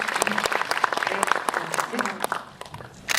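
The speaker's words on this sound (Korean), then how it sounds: "박수 부탁드립니다." Audience applause at a Korean film press event and movie talk, a dense run of clapping near and fairly loud, thinning toward the end, with a voice briefly speaking over it.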